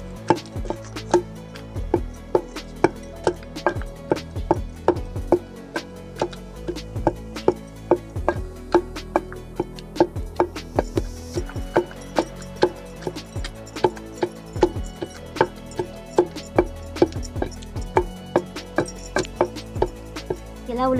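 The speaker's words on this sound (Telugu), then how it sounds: "ఇలా ఉల్లిగడ్డలు వేసుకొని దంచుకోవాలి ఫ్రెండ్స్" Rhythmic, steady pounding of onions into gongura leaves in a stone mortar for Andhra-style gongura chutney, sharp repeated thuds and knocks continuing throughout at a close, even pace with no talking.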